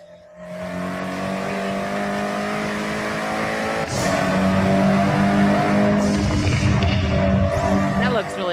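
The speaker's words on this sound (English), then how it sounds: "Our cars sound better than ever, with greater detail and remastered audio" Car engines rev and roar in a Horizon racing video game, a loud sustained engine drone that surges and climbs in pitch midway, with tire noise mixed in.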